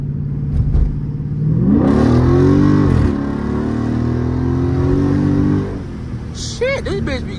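A Dodge Charger 392 Scat Pack engine winds up hard and loud, then holds a steady, strained drone for several seconds before easing off. Someone talks throughout, and brief squeaky noises follow at the end.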